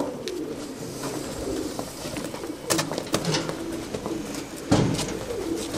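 Pigeons coo softly in a loft, a steady layer of low murmuring calls with a few sharper flutters and knocks, close by and moderately loud, with no talking.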